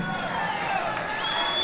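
A basketball crowd at Sioux Falls Arena during an NCC tournament championship game makes a dense, continuous roar of cheering and babble that holds at a steady level throughout.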